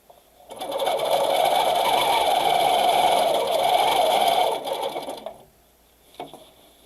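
A Baby Lock sewing machine stitches a straight line along a quilting ruler, humming steadily for about four seconds, then stopping, with a single faint click afterward.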